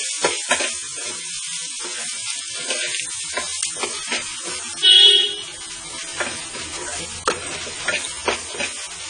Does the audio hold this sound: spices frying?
yes